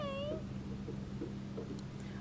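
A cat at a horse barn gives a single rising-falling meow near the start, followed by quieter sounds over a steady low hum of barn background.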